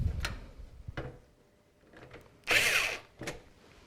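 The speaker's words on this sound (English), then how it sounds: "I'm going to use my electric screwdriver to do this as quickly as possible" Electric screwdriver driving screws into a computer case: short whirring bursts and clicks between quiet gaps, close and fairly faint, with one louder longer burst near the middle.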